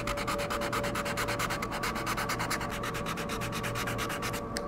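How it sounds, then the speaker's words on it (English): A sanding block with fine sandpaper rubs rhythmically over a repaired surface on a Mirage Lynx hull, quick even back-and-forth strokes close up and steady, with no talk. "I always like to get a nice sanding block with some nice fine sandpaper to finish."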